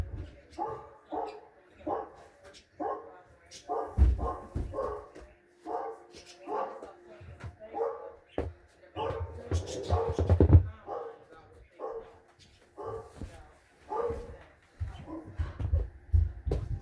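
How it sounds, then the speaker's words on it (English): A dog barks repeatedly in steady bursts, some yips and whimpering mixed in, fairly close and loud against a quiet background. "my dog started barking loudly"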